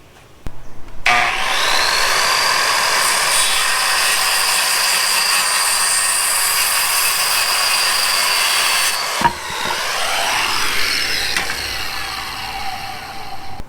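T1-11 plywood siding boards being cut with a power saw: a loud, sustained high whine runs for about eight seconds, cuts off, then winds down with a falling pitch as the blade spins to a stop.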